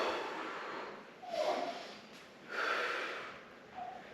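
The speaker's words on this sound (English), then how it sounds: "So breathe in." Deep breaths are drawn in and let out during a kettlebell workout, close and fairly soft, coming in two or three slow nasal cycles with no talking.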